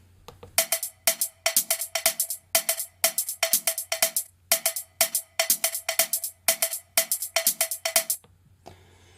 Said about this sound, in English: just mute our drums for a minute so you can hear the loop on its own